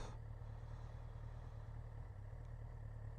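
A motorcycle engine runs close by with its characterful exhaust, a steady, faint low rumble with an even throbbing pulse across the few seconds, no talking over it.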